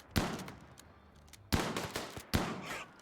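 Heavy SMG fire in the RimWorld video game comes in three sharp bursts of rapid gunfire, separated by short pauses, loud and close.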